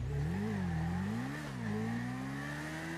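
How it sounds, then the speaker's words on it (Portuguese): Motorcycle engine in the GTA video game, a steady mid-pitched drone that rises and falls with revs and throttle changes, sustained and fairly close throughout with no talk over it. "Acho que tem moto aqui. Eu ouvi moto."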